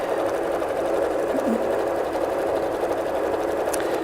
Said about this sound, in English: make sure it's all lined up, and then sew away.